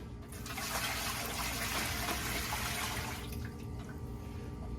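Hot water pouring steadily into a pressure canner before canning green beans, a loud continuous rushing splash that tapers off toward the end, heard alone without speech.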